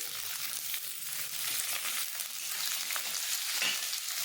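Carrot, pointed gourd and potato sizzle in a hot pan, a steady broad frying hiss with faint crackles and occasional stirring scrapes, close and continuous with no talk.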